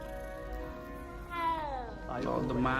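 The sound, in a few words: cat meowing in the video game Hogwarts Legacy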